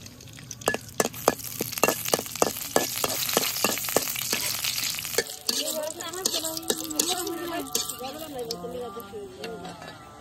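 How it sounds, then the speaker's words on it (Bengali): Dried red chillies frying in mustard oil in a kadai, a loud steady sizzle with sharp crackles and stirring clinks for about five seconds, then quieter spitting oil under clattering utensils. "শুকনা মরিচ ভেজে নই"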